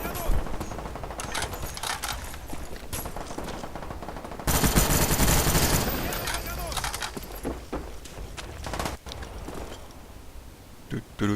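Famas rifle hip fire in Call of Duty Black Ops, a multiplayer match on the Villa map, with rapid bursts of automatic gunfire and mechanical clatter, a loud dense volley midway, while someone talks over much of it.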